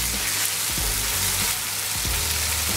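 Liquid ingredients for adobo, including balsamic vinegar, hit a hot pan and set off a loud, dense hiss and sizzle. A few low thuds and splashes come through the spray without pause, and no one talks.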